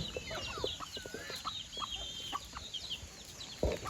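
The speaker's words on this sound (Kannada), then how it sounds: "ನೋಡಿ ಇಲ್ಲೊಂದು ಹೋಗ್ತಿದೆ ಹುಂಜ" A rooster among farm chickens gives a scattering of short clucks, some near and some farther off, over a soft outdoor background.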